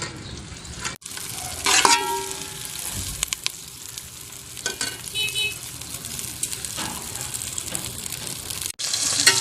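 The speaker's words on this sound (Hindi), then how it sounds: "अब ये देखिए भिंडी फ्राई हमारी हो रही है।" Okra frying in oil in a cooking pot alongside chicken and onion, a steady close sizzle with a few stirring scrapes and bursts of spattering, no talk.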